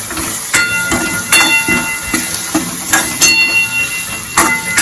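Onions and tomatoes sautéing in a pan for a Gujarati corn curry give a steady close sizzle and hiss, broken by a regular series of sharp knocks and scrapes from stirring.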